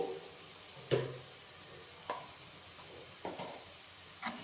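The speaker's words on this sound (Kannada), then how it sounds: "ಇದನ್ನು ನೀಟಾಗಿ ಫ್ರೈ ಮಾಡ್ಕೊಳ್ಳೋಣ" Pav bhaji masala with chili powder frying in a pan, street-style home cooking: a few soft sizzles and stirring scrapes spaced out over a quiet background, faint and close.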